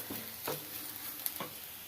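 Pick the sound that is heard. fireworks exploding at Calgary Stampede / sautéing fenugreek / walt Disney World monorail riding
sautéing fenugreek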